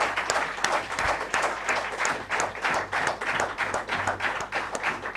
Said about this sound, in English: can I please request all of you to give a big round of applause for this.